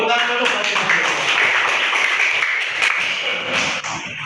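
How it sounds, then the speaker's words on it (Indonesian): A class of fourth-grade children clap their hands together in a dense, continuous burst of overlapping claps lasting several seconds, fairly loud and close, with a steady roomful sound throughout. "Oke, tepuk tangan dulu."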